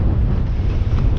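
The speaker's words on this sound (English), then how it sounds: "the wind is blowing like crazy" Strong wind from a nighttime windstorm on an alluvial fan in Death Valley roars steadily into the microphone, a loud, dense rush of buffeting with no voices.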